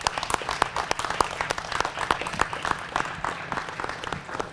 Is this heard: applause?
yes